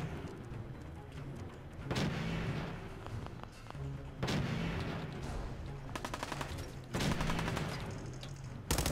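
Pistol gunfire in the video game Fallout 4 comes as repeated sharp shots, some single and some in rapid bursts, loud and close, with short pauses between them.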